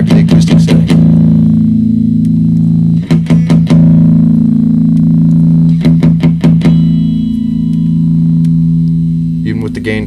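An electric guitar runs through a modeling amp on a super high gain distortion setting, with repeated quick strummed bursts over a loud sustained buzzing drone and hum, the chords ringing out between strums.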